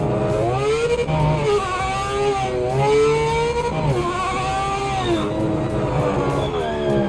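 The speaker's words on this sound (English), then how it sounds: "You can hear the brakes, which is cool." Race car in the sim racing game Project Motor Racing, engine harmonics sweeping down and up as it brakes and downshifts into corners, then accelerates again, loud and continuous with no talk.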